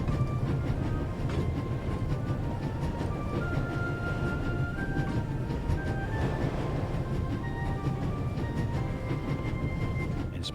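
Train running at full speed in The Raven: The Legacy of the Master Thief, a steady loud rumble with rolling rail clatter and faint metallic squeals held throughout without talk.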